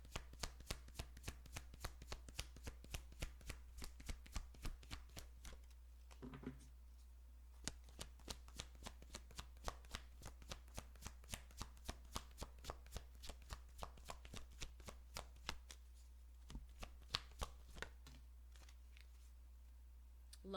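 Tarot cards being shuffled and drawn by hand: a steady run of quick, crisp riffling flicks lasting about twenty seconds, close and fairly quiet, with no talking.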